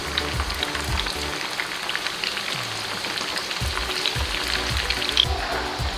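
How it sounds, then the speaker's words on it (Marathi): Baati dough balls fry in very hot oil, giving a steady, loud crackling sizzle with small bubbling pops throughout and no talking. "आपलं तेल छान कडकडीत तापलं आहे, त्यात आपण त्या बट्ट्या टाकून छान फ्राय करून घेऊ"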